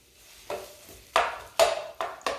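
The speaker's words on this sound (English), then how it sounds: "So, starting those in our skillet, right away, making sure we're on high" Julienned green and red bell pepper strips fry in a skillet over high heat, giving sharp sizzles and several distinct stirring scrapes at an uneven rhythm, close and moderately loud.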